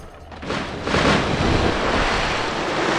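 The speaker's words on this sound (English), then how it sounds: "Oh, water, okay." Water waves in the video game BloodRayne, a broad rushing surf swell that rises after a quiet start and then washes steadily and loudly with no voices.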